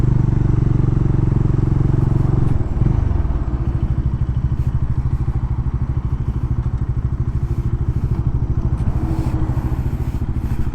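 A Bajaj Dominar 400 motorcycle engine runs close by, its loud rumble shifting near the start into a steady rapid putter that continues throughout.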